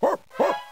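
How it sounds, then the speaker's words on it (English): Two short barks from a cartoon dog in the Cluefinders educational computer game, spaced about a third of a second apart, close and clear with no talk over them. "That dog!"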